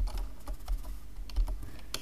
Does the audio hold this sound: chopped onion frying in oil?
no